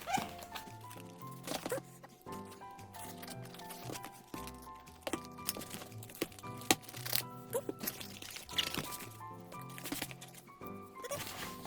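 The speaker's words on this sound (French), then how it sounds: "Et maintenant la batterie. On va déballer tout ça." A replacement battery for a 2006 white MacBook is unwrapped from its packaging, giving close rustling, crinkling and soft crunching handling noises in irregular bursts, with no speech.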